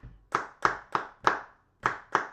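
Six sharp hand claps in a syncopated hip-hop strumming groove, close and alone, grouped as four evenly spaced claps, a short pause, then two more.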